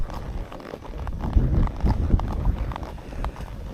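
A horse's hooves clop on a downhill trail during a solo training ride, a steady walking rhythm of close, muffled thuds with some wind noise on the microphone.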